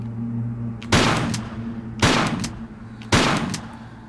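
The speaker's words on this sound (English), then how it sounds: "They make it easier to shoot them." Three loud, evenly spaced gunshots, about a second apart, fired at crocodiles in Tomb Raider: The Last Revelation's Karnak Temple, each sharp crack trailing into a short decay over a low steady hum.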